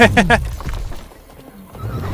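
A horse in the video game The Witcher 3 lets out a short, loud whinny at the very start, then fades to quiet ambient background.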